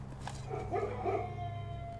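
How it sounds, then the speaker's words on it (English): Dogs howl in the Blue Prince video game, a few wavering, rising howls layered over a steady low game hum, with no talking. "Oh, the dogs are howling."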